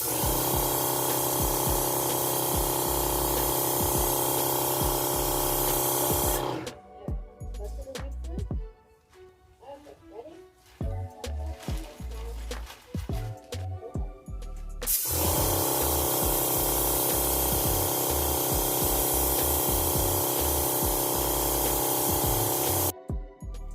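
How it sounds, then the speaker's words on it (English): A paint sprayer hisses loudly and steadily while spray painting kitchen cabinets, running in two long bursts with a quieter gap between them full of scattered clicks and handling noises. "my daughter wanted to try out the spray painter herself and see if she could do it"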